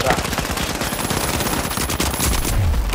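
Rapid automatic gunfire from the video game The Finals rattles in dense, continuous bursts for the full three seconds, loud and close with constant in-game effects around it.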